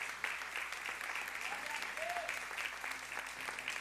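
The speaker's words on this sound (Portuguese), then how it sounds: "Você pode aplaudir ao Senhor?" A church congregation applauds during an evening celebration service, a steady, fairly quiet wash of many hands clapping heard at some distance throughout, with a faint voice briefly rising above it.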